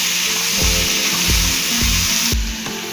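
Chopped green chilies, garlic and tomato fry in a hot pan with a loud, steady, broadband sizzle, broken by a few rhythmic low thumps from stirring or scraping, with no talking.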